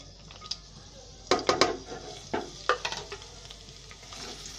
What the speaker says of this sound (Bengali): কাঁচামরিচ আর শুকনো মরিচ ছেড়ে দিব, এবং ছেড়ে দিয়ে আমি এটা একটু ব্রাউন কালার করে ভেজে নিব।